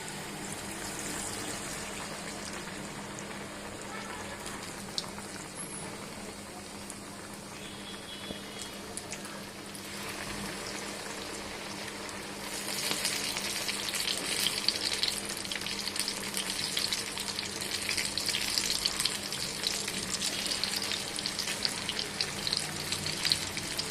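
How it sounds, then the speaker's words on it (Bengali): Coated chicken pieces fry in hot oil in a wok, a steady crackling hiss that grows louder and busier as more pieces go in and continues without speech. "এখন আমি কোটিং করা মাংসগুলো এক এক করে ছেড়ে দেব।"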